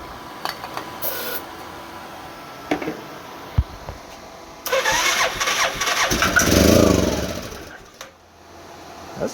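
With its muffler back on, a rebuilt, previously blown Arctic Cat 500 4x4 engine gives a few clicks and knocks, then cranks and runs roughly for a few seconds, swelling in a rough rasping roar before dying away.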